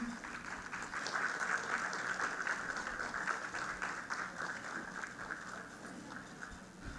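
Audience applause welcoming a flute player onto the stage at an arts festival concert, a steady wash of many hands clapping throughout, moderately distant and even, with no clear speech.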